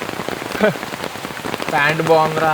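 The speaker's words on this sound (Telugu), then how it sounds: "ఇప్పుడు వర్షం పడింది కదా." Rain falls at the Manyam resort in Maredumilli, a dense steady patter on surfaces close by, while people talk over it.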